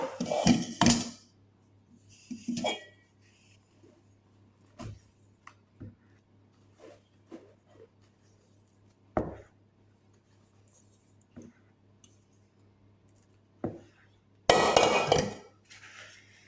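Beaten egg whites are folded into lemon cake batter in a bowl, with sparse soft scrapes and light utensil clinks between quiet pauses, and louder clattering bursts at the start and end.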